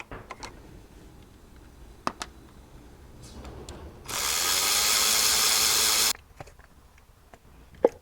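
A hand ratchet clicks in short bursts while unbolting ignition coils and the valve cover on a Dodge Charger 5.7L engine, broken by a two-second steady hissing rush in the middle.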